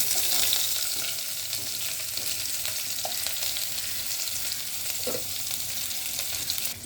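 Chopped onions fry in hot oil for a chicken egg masala pasta, giving a steady, close, dense sizzle with a few faint stirring clicks and no voices.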